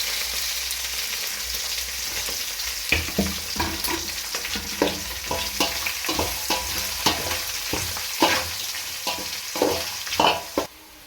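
Onions frying in oil with bay leaves, cinnamon and cloves for a vegetable biryani, a steady close sizzle punctuated by repeated sharp spatula scrapes and stirring knocks, no talk.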